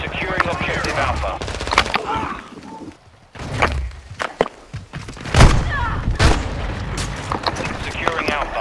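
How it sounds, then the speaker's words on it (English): Gunfire in a military shooter video game: rapid automatic bursts, heavy booms and thuds echo at close and middle distance. Game voice callouts come through between the shots, with a short lull partway through. "Taking fire."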